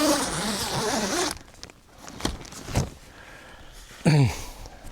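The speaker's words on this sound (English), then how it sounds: "So this particular door, what we can do, we'll zip it back up." A zipper is pulled closed on the door of a camouflaged pop-up hide, a long rasping zip followed by a few short tugs and a final quick zip, close and clear.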